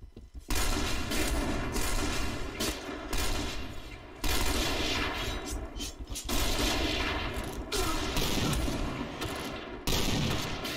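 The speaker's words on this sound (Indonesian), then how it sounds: "gua nembak ke bawah dong" Rapid gunfire from the Point Blank online shooter game, sustained bursts of loud shots running almost continuously with brief gaps, with faint voices now and then underneath.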